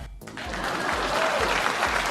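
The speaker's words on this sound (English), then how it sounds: "Please clap." Crowd at a political meeting clapping steadily and densely for about two seconds, with a low rhythmic thump running beneath the clapping.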